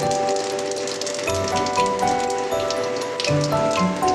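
Panch phoron spices crackle and sizzle in hot oil during tempering, a close, steady hiss with scattered pops and rattling spatter, no voices present.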